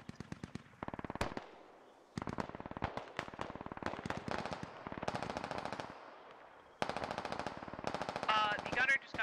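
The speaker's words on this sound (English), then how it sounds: "And then I'll call those mortars in right there" Mortar fire support strike in the SquadOps video game: rapid bursts of sharp, loud impacts and gunfire-like cracks land in dense clusters with brief gaps, repeating through the whole stretch.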